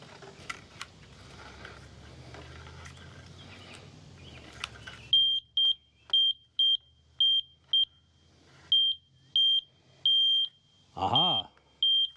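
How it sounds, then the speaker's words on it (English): Metal detector beeping over nails in posts milled from old utility poles, a string of about ten sharp, high, evenly spaced beeps following quiet shop noise, close and clear. "Metal detector paid off. You hear that, folks?"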